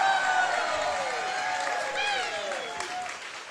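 A comedy club audience applauds and cheers as a comedian walks off in a captain's hat, clapping steady and full while a voice talks over it with stretched, sliding vocal tones.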